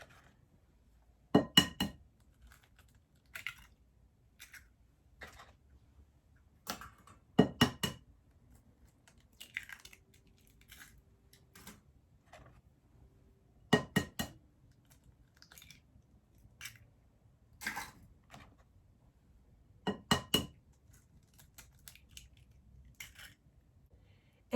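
Four eggs cracked one by one on a bowl edge and dropped into carrot cake batter: quiet, sharp taps and clinks spaced several seconds apart in an otherwise still kitchen.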